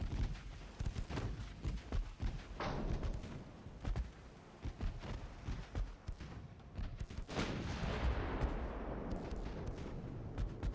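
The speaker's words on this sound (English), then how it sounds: "I can actually get both turrets firing?" Warship turret guns fire in the naval battle game Ultimate Admiral: Dreadnoughts, producing a string of fairly quiet, distant thumps and cracks with a larger blast and rumbling roar late in the sequence.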